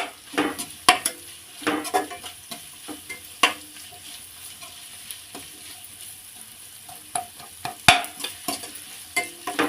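Chicken fried rice being stir-fried in a pan: repeated clanks and scrapes of a spoon or spatula against the metal over a light sizzle, in irregular bursts, close and clear.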